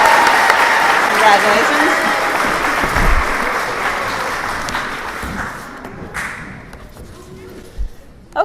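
Audience at a sixth grade school awards ceremony applauds, a dense burst of clapping that swells at first and then thins and fades, with a voice speaking briefly over it.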